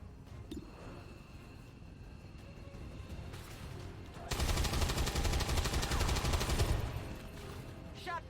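Gunfire in XCOM 2: Long War 2 erupts as a loud, sustained burst of rapid automatic shots lasting a couple of seconds, preceded by quieter scattered clicks and ambience, then dropping away to a few trailing sounds.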